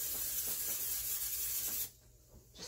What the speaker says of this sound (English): And that requires some cooking spray